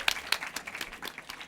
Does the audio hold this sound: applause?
yes